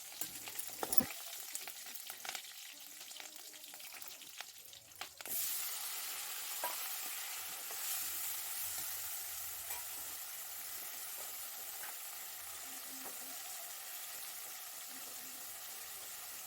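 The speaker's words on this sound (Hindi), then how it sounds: "अब जैसे ही मिर्च भुंज जाएंगी तेल में, उसका स्वाद मिल जाएगा" Chopped green chillies fry in oil with tomatoes and leafy coriander, a rough stirring clatter giving way after a few seconds to a steady, bright sizzle that holds loud and even to the end.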